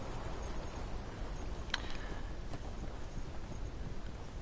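Horse hooves in the video game Conan Exiles, a soft steady clip-clop running under a constant noisy bed, with one sharper louder knock near the middle; no talking.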